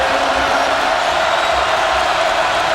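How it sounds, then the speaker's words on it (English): A loud basketball arena crowd roars steadily in a close game, a continuous wash of cheering and noise with no breaks. "This crowd is loud."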